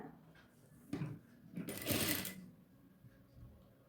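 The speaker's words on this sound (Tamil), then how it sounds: "இப்போ இன்னொரு கைக்கும் அதே மாதிரி தான் நான் பார்டர் ஸ்டிச் பண்ண போகிறேன்" A sewing machine runs a border stitch along the sleeve of a nighty, a soft close whirring burst that swells in the middle and fades, with quieter handling noises around it.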